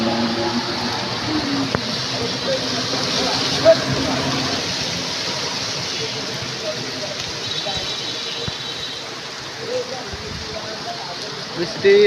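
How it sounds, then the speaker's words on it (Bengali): A heavy downpour falls outdoors near a pond and shuttered shops, the rain a steady dense hiss for twelve seconds with little variation and no voices. "প্রচুর ঝুম বৃষ্টি হচ্ছে।"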